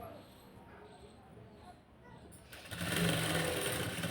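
A sewing machine stitches thread piping along an old seam: after a quiet stretch of low murmuring, a steady, fairly loud whirring hum starts up for the last second and a half.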